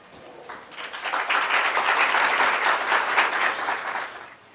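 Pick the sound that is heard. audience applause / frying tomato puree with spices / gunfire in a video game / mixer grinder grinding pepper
audience applause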